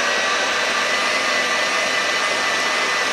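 Electric hand mixer whirring on high speed as it beats sponge cake batter, a steady loud broadband drone that holds constant throughout with no talking.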